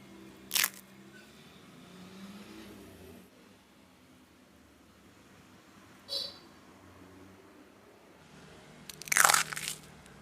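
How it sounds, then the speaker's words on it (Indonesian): Fried rainbow rengginang glutinous rice crackers crunch in three sharp bites, one near the start, one mid-way and a louder cluster near the end, close and crisp over quiet room tone. "Sekarang kita tes kriuknya ya."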